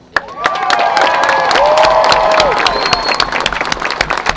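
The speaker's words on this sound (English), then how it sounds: "I think we should give them a round of applause." A large crowd at a street protest applauds loudly and steadily, dense clapping filling the space with a few scattered cheers rising through it.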